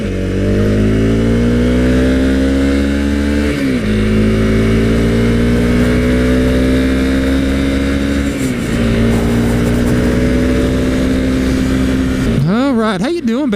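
A Honda CRF 250 dual-sport motorcycle on knobby tires revs and pulls through rising gears while riding, its engine loud and steady with shifts every few seconds, plus a quick burst of throttle at the end and wind noise throughout.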